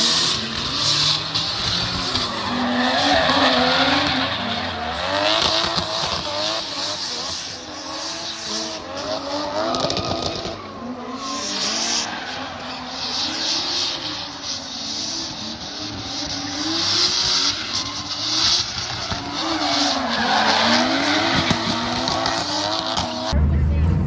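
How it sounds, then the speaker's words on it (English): Cars drifting at Newport Speedway, with loud continuous engine revving and tire squeal wavering throughout, close by and steady, while people talk over it. "We're about to drift."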